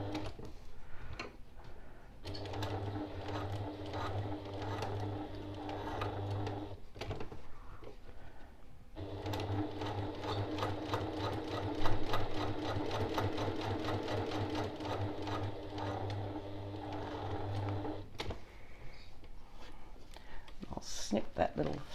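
A sewing machine stitches around the edges of a label on a boxed zipper pouch, running in two long bursts of rapid ticking with a short pause between, near and fairly quiet.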